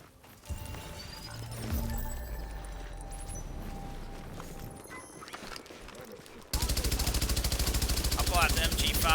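MG5 machine gun fire in The Division on PC: a rapid, steady stream of loud rounds in the final few seconds, after a stretch of quieter game sounds and scattered shots.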